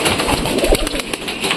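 Pigeons coo as they file out of their coop: soft, throaty calls in a close, busy cluster over a short stretch, with no speech.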